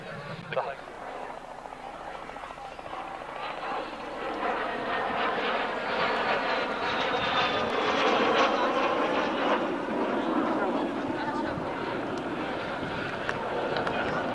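A light aerobatic aircraft rated to +6 and -3 G flies at the Wings Over the Illawarra 2017 air show, its engine a steady drone that swells slightly midway, heard under continuous commentary.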